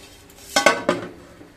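A metal lid set over a pot holding cake batter on a stand, three quick close clanks in under half a second, then quiet.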